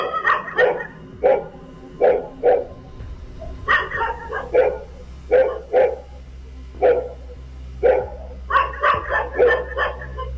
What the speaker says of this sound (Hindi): यहां सड़क पर चलते इस शख्स को देखकर कुत्ते भौंक रहे थे